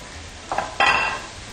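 Ingredients tossed into a pan for a stir fry, two quick clattering bursts of stirring and scraping against the pan, close and moderately loud, with no talking.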